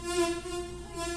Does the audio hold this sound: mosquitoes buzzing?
yes